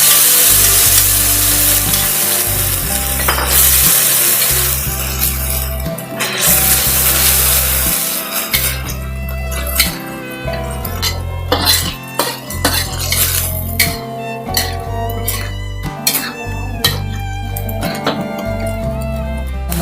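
Fish roe tipped into a pan of cooked spices and stir-fried, with continuous sizzling and frying under repeated scraping and clinking of a utensil against the pan, close and fairly loud throughout.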